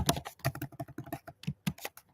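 Rapid, uneven clatter of keys on a computer keyboard, with bursts of close, crisp clicks followed by a few slower, separated taps, heard alone.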